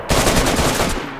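Rapid automatic gunfire in the DayZ video game, a dense burst of close, loud shots rattling steadily for about a second with no pauses.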